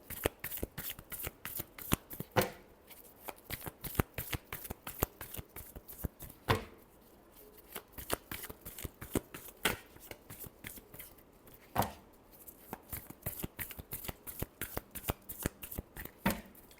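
Tarot cards shuffled by hand during a reading, a steady run of crisp riffling flicks and slaps with a few louder snaps, close and clear with no talking.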